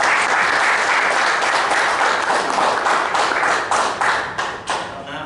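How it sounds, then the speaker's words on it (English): An audience at a Fayette County GOP meeting applauding two candidates, a full round of clapping from a roomful of people that holds steady and then tapers off toward the end. "Let's give both of our candidates here a round of applause."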